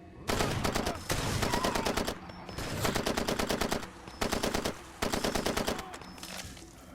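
Automatic gunfire in Far Cry 2 aimed at an ammo pile. Loud rapid bursts of shots come in several separate volleys, each broken by a short gap, with no talk.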